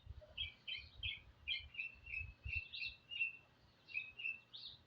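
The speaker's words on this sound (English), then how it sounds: "Hear that bird cheering for us?" A small bird chirps outdoors in quick, repeated bright calls that come in short bursts throughout, fairly clear over soft low thumps and rustle during a martial arts strengthening workout.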